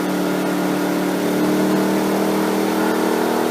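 A WEN 56225i inverter generator runs under increasing electrical load at high RPM, its engine droning loudly and continuously with a steady mid-pitched hum and no pauses or speech.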